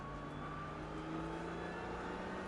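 Nissan GT-R on a race track holds a steady, fairly faint engine drone under throttle for a couple of seconds, heard from inside the car with no voices.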